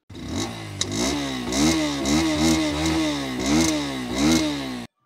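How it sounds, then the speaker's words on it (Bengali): A Bajaj Pulsar N125, a 125 cc motorcycle, revs through its exhaust in repeated throttle blips, the engine note rising and falling in a steady rhythm, loud and close, then cutting off abruptly. "এটার এক্সহস্ট পাইপের সাউন্ডটা এখন একটু শুনি"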